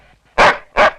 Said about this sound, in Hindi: कुत्ते हट हट